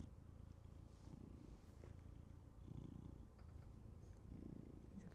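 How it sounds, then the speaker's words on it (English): A contented pet cat purring close up, a soft, low, continuous rumble pulsing in slow breathing cycles, quiet and steady with no voices over it. "Hope you can hear him purring."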